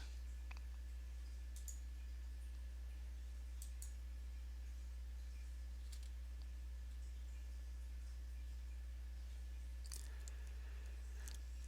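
Several faint, sharp computer mouse clicks at irregular intervals over a steady low electrical hum, quiet and close, with no talk, while a field is added in donation software.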